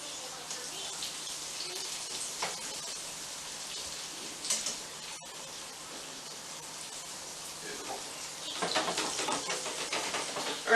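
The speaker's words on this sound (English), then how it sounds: "So let's chuck her in the fryer." Chicken pieces sizzle in a deep fryer, a steady dense hiss of bubbling oil with brief louder bursts of crackle.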